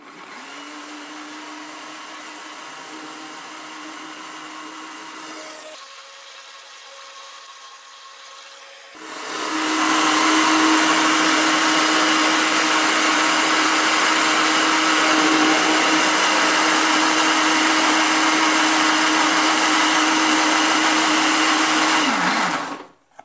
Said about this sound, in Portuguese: Agora vamos bater.